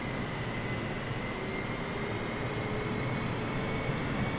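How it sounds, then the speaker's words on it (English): A Boeing 747-8 taxiing in Microsoft Flight Simulator 2020, a steady, moderately loud jet engine drone with a constant whine, no talking. "I will just taxi on the runway."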